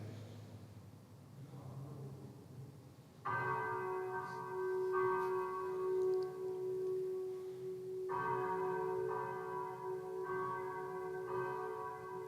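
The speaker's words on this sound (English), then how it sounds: "this is a recording of San Jeremiah ringing when we were inside it" Loud church bells ring at close range inside the bell tower of San Geremia in Venice, rich overlapping tones striking repeatedly and sustaining with a long, ringing resonance.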